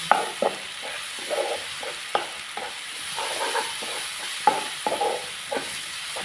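Garlic paste sizzling and frying in a pan for a prawn dish, with repeated clinking stirs of a spoon against the metal breaking up a steady background hiss; no talking.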